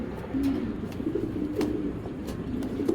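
A pair of Belgian-breed racing pigeons coo close by in soft, repeated low throaty calls over a steady background murmur, with a few faint clicks scattered throughout.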